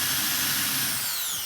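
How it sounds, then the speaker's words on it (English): A power drill bores holes in a steel part for a 1965 Ford Falcon race car, giving a loud, steady, high-pitched whine that holds throughout without a break. "You gotta drill all those out. You gotta drill all them holes."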